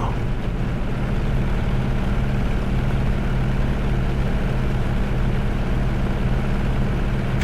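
Grumman F6F Hellcat radial engine droning at raised RPM, around 2600, in Microsoft Flight Simulator, flying from Biggin Hill to Headcorn in the UK. The engine gives a loud, steady, continuous cockpit hum throughout, with no talking.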